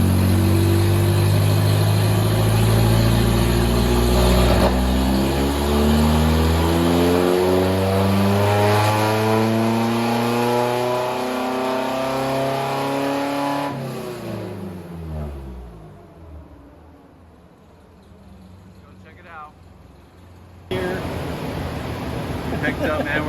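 A Race Terra engine revs hard on a dyno, its note sweeping up through a long pull before dropping away to a quieter idle, then roaring back up, loud and close, with some talk over the top.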